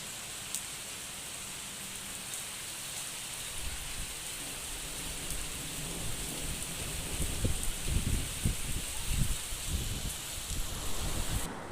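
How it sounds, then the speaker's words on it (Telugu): Heavy rain pours steadily in Hyderabad, a dense continuous hiss that thickens and grows louder toward the end, with low rumbling thuds beneath. "హైదరాబాద్లో అయితే రెగ్యులర్గా 2-3 రోజుల నుంచి ఫుల్ వర్షం పడుతూనే ఉందండి"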